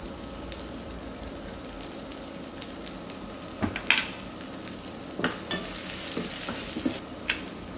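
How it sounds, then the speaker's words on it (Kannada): Chopped green chillies frying and being stirred in hot oil for rava dosa, a steady close sizzle with scattered scraping stirs and small pops, no talk. "ಈಗ ಚಾಪ್ಡ್ ಗ್ರೀನ್ ಚಿಲೀಸ್ ಹಾಕ್ತಾ ಇದ್ದೀನಿ."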